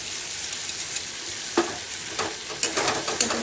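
Sweetened poppy seed paste being sautéed in a pan, a steady close sizzle with a few soft scrapes of a spatula stirring.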